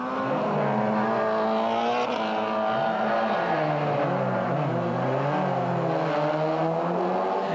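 Several Peugeot 106 Cup race cars from 1998 racing at Spa, engines howling loud and continuous with overlapping pitch sweeps as they accelerate and shift, one 106 closing on another.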